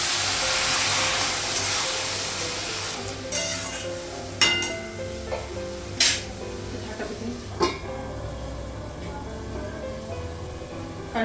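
Water goes into a hot frying pan in a home kitchen: a strong hiss of steam fades over several seconds while metal pan and utensil clinks ring out at intervals.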